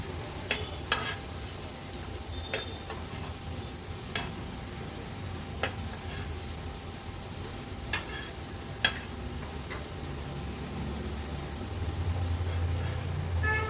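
Elephant foot yam slices shallow-fry in a little oil over a low to medium flame, giving a steady soft sizzle with scattered sharp clicks and taps as pieces are turned; no one speaks.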